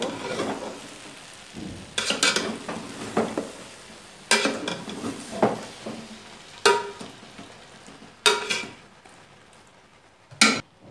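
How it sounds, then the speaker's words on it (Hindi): A spoon stirs chicken pulao in a metal pot, giving scraping, clinking strokes that arrive in irregular bursts every second or two, with a few sharp knocks against the rim and soft rustling of rice in between. "अब हमने चम्मच इसमें अच्छी तरह से हिला दी है।"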